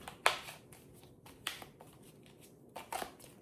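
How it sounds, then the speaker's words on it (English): A deck of tarot cards being shuffled by hand: quiet, close papery riffles and snaps in a few separate bursts with soft rustling between them and no talking. "Right, give the deck a good shuffle."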